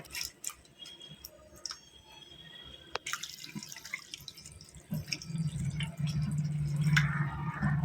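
Fresh fenugreek (methi) leaves being rinsed in water in a sink or colander, with scattered drips and splashes that build into a steady rush of running tap water toward the end.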